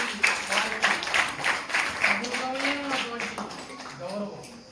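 An audience of school students claps in a loose, uneven patter at a talk by a speaker, with a voice speaking over the applause throughout.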